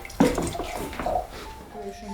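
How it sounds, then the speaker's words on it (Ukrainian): Water runs from a tap into a container in a home kitchen at six in the morning, a splashing rush that shifts in pitch as the vessel fills, close by with faint background voices. "піду наберу води, так?"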